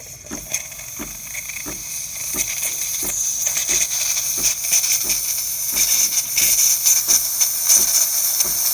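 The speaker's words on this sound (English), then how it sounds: "Steam working just fine" A DeLonghi espresso machine's steam wand hisses steadily and loudly at close range, growing slightly stronger over several seconds with faint rhythmic ticking underneath and no talking.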